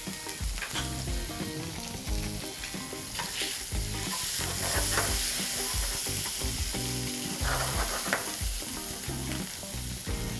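Pan-seared salmon fillets with shallots and orange segments sizzle steadily in a hot pan, a loud continuous frying crackle with occasional stirring clatter, no voices.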